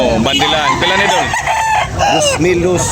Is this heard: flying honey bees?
no